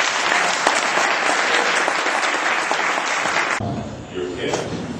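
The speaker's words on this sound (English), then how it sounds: "I'd like to give a special applause" Applause from an audience at a Rotary club ceremony honouring Paul Harris Fellows: steady, dense clapping that fills the room, then thins and drops in level toward the end.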